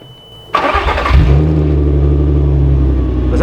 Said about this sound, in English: We'll get our first cold start.